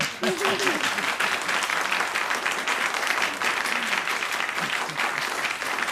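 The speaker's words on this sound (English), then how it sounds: "Let them both be clapped." A television game show studio audience breaks into steady, dense applause that carries on without a break, close and fairly loud.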